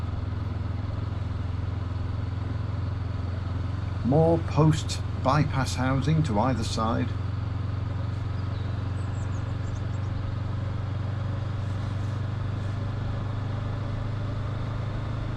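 Motorcycle riding along the Great North Road A1 near Alconbury Weston, a steady low engine drone running throughout at constant level, with someone speaking briefly over it partway through.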